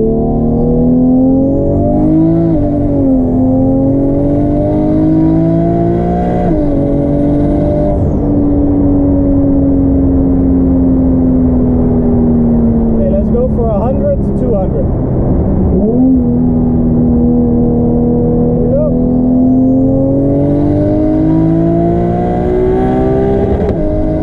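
A 1JZ-engined Nissan S13 with a DCT gearbox pulls hard at speed on the Autobahn, heard from inside the car: a loud, continuous engine drone rising and falling through gear changes, with a brief shift dip midway and no talking.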